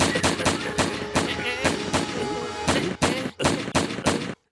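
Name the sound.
cartoon gunshots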